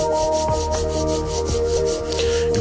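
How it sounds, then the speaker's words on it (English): Palms rubbing briskly together in a steady back-and-forth rhythm, close and continuous, with soft regular swishing strokes and a faint tonal hum beneath. "Rub your palms together."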